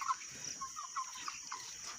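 Faint, short clucking calls from roosters fighting, several brief cries scattered over a quiet background with no talk.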